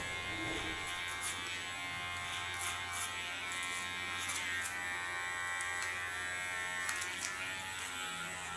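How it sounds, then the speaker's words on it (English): An electric clipper buzzes steadily and close up while it shaves the nape of the neck during a super short pixie haircut. The whine is continuous, and the blade makes small crisp changes in tone as it moves through the hair. "And make this nape shave ultra soft."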